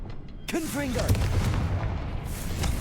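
A Confringo fire spell blast goes off in Hogwarts Legacy, a booming burst with a rumbling tail under a speaking voice.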